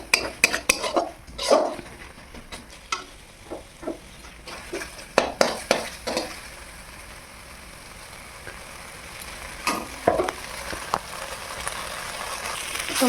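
A spoon scrapes and knocks against a pot while spiced potatoes are stirred and mixed, giving repeated close clinks and clatters in irregular bursts with a soft sizzle underneath.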